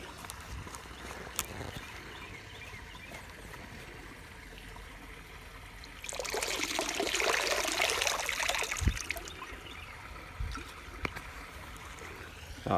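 Creek water trickles and burbles close by, soft and steady at first, then swelling into a louder rushing splash for a few seconds before settling back to a gentle trickle, with no talk.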